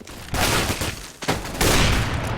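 Counter-Strike gunfire on the de_dust2 map, with several heavy rifle shots and bursts in quick succession, fairly close and punchy, and no talk over them.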